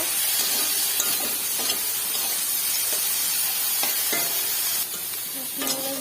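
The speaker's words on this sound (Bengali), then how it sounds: "ভালো করে ভাজা করে নেব।" Shrimp sizzle in hot oil in a kadai with a constant hiss, while a utensil scrapes and stirs the pan now and then.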